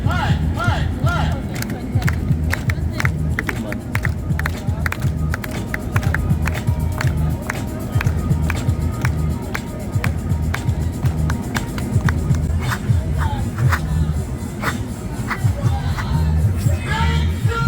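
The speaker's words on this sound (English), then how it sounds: "Now everybody clap your hands." A street performance crowd claps hands in a steady rhythm alongside loud, pounding music, with the claps sharp and regular over a busy outdoor backdrop.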